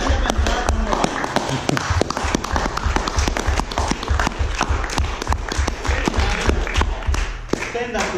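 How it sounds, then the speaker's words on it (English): A seminar audience on its feet clapping, heard as loud, rapid, sustained applause with sharp individual hand claps running throughout, while voices speak over the noise. "Let's stand up and clap one more time."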